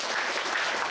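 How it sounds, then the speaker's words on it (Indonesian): Audience clapping for an honoured guest at a sales and recruiting event, a dense, steady burst of many hands with no gaps. "Kita kasih tepuk tangan yang paling meriah dulu untuk Pak Suroyo."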